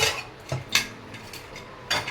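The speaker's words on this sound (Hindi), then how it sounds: "आप कुकर खोलते हैं" A pressure cooker being opened after one whistle while cooking potatoes and arbi, heard as a few close metallic clinks and scrapes of the lid, with no talk.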